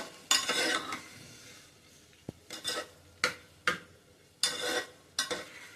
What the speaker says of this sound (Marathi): मसुरा सुद्धा छान परतून घ्यायचा